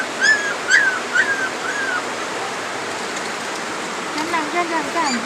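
A dog whimpers in several short, high-pitched whines over a steady wash of running water as floodwater enters a house during a typhoon.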